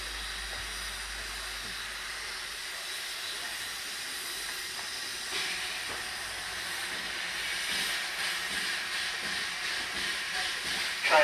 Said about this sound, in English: the train's arrived at platform number 3, the Sheffield Park train